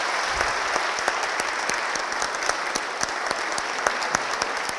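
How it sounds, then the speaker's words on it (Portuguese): A lecture audience gives sustained applause in tribute to a retiring law professor at his final lecture, dense and even clapping that fills the room from start to finish with no speech over it. "agradecido e profundo aplauso"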